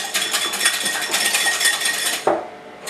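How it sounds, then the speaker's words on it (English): Three eggs being whisked by hand with a normal-size whisk, producing a steady run of quick, close metallic clicks and rattles against the bowl, stopping near the end with a brief knock. "Get your normal size whisk and just whisk it up."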